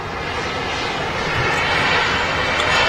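A small Cessna Citation business jet at Manchester Airport gives a continuous rushing engine roar that swells slightly louder toward the end, close and steady, with no talk.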